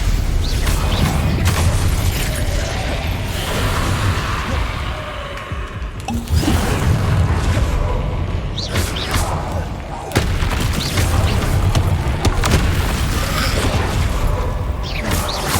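Hogwarts Legacy spell combat with Incendio fire blasts and Confringo explosions: repeated booms and crashing impacts with whooshes, heavy hits landing around six and ten seconds amid a busy, loud battle din.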